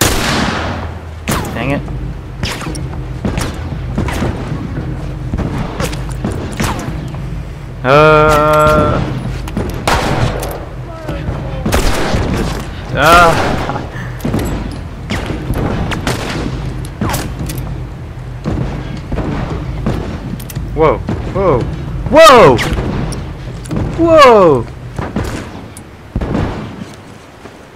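Gunfire from a fight on a bridge in The Last of Us, loud, repeated sharp shots in irregular bursts with some heavier booms, mixed with brief talk.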